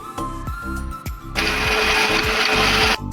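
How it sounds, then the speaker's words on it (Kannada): A mixer grinder whirs loudly in bursts, pausing briefly, then runs continuously at a high, steady roar before stopping, grinding boiled drumstick leaves into paste. "ಕೊತ್ತಂಬರಿ ಸೊಪ್ಪು ಈಗ ಮಿಕ್ಸಿಗೆ ಹಾಕ್ಬಿಟ್ಟು ಪೇಸ್ಟ್ ಮಾಡ್ತಾ ಇದ್ದೀನಿ"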